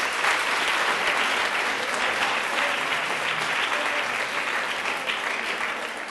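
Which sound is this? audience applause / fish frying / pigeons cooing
audience applause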